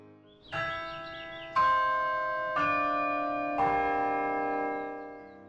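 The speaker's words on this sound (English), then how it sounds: "The bells, they just have such a sonorous, like bright tone." Four big carillon bell strikes at Missouri State University, about a second apart, each ringing out with a bright, sustained tone that overlaps the next and slowly fades.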